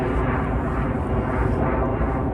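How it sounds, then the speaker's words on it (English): An airplane flies overhead with a loud, steady broadband engine roar that fills the whole span without a break, close and dominant, with no talking. "there's a airplane flying above me, which is very loud"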